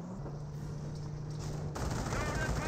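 MG42 machine gun fire in Company of Heroes, a steady stream of rapid shots under continuous battle noise that swells louder and denser partway through.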